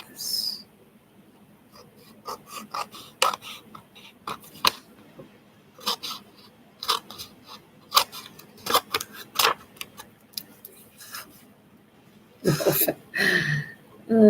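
Scissors snipping through magazine paper during a glue-book craft session, a run of short crisp cuts in an irregular rhythm, close and fairly quiet, followed by a brief burst of rustling paper at the end.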